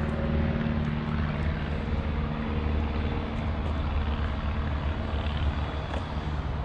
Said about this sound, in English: We're close to the airport, so we got airplanes flying over.